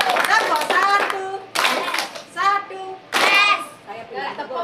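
An audience at a talk show in Lumajang claps together on cue, sharp single bursts of clapping breaking in between a speaker's voice, which fills most of the clip.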